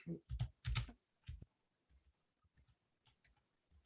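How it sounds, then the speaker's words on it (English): Faint keyboard typing, a few scattered soft clicks at low level following a short burst of louder sounds at the start. "I'll try to type that in the chat."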